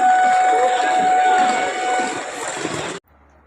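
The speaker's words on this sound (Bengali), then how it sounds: "আমরা রামপুরহাট জংশনে এখন দাঁড়িয়ে আছি, ওটা ট্রেন ঢুকছে" A train pulls into Rampurhat Junction station with a loud, steady rumble and a sustained high whine that cuts off abruptly near the end, leaving only faint background noise.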